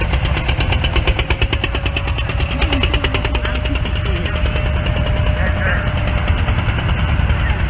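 An 8 Melara Landini C25 tractor from 1953 runs at an agricultural fair blessing of farm vehicles, its single-cylinder engine thumping in a fast steady loud rhythm close by, with crowd noise in the background.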